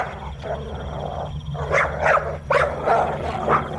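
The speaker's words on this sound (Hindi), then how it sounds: "उनका पेट डॉग बॉनी किसी काली परछाई को देख के भौंकने लगा।" Pet dog Bonnie barks in a short series of sharp, mid-loud yaps at night inside a villa, over a steady low background drone, with no talk.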